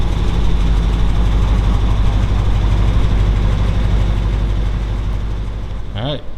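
A hopped-up 1951 Mercury flathead V8 with an Edelbrock aluminum cylinder head idles in a custom 1940 Mercury Eight, a loud, steady, close low rumble that holds even for the whole stretch before a brief change at the very end.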